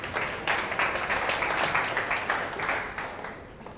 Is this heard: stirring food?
no